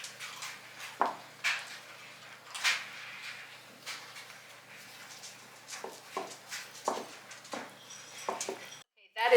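Cocoa and milk icing stirred in a bowl with a utensil, giving repeated scraping and knocking strokes at a moderate, uneven rhythm, close and fairly quiet, with a person talking over much of it.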